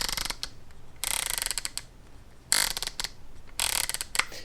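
A VILTROX 85mm F1.4 PRO camera lens has its aperture ring turned in four bursts of crisp detent clicks, some single ticks between them, close up and otherwise quiet.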